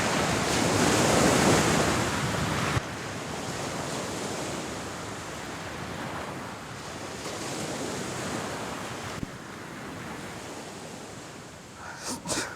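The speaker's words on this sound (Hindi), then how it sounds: "12 से 15 फीट ऊंची लहरें हैं यहाँ पर।" Large ocean surf, waves of 12 to 15 feet, crashing on the shore of the Odisha coast between Konark and Puri, a loud continuous roar of breaking water with surges, heard alone.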